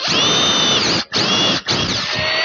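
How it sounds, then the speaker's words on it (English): A power drill with a slightly larger bit bores out a hole in a wooden Windsor chair post, whining loudly in three close bursts separated by brief pauses. "Now I'm going to go to a slightly bigger drill and just enlarge the hole in the post."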